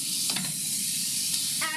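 Beans frying in a pan with coconut milk and lentils nearby, a steady close sizzle and hiss with a few short stirring scrapes, no voices.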